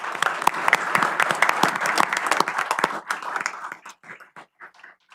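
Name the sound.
audience applause for the police department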